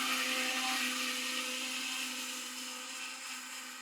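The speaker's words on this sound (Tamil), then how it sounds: "ஒரு வழியா சட்னி அரைச்சி முடிச்சாச்சு" A mixer grinder whirs steadily while grinding coconut chutney, a loud, continuous motor whine with a tonal hum that holds for several seconds and eases slightly toward the end.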